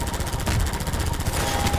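A Combine helicopter's rapid machine-gun fire in Half-Life 2, a dense, fast, unbroken burst of loud close shots lasting under two seconds.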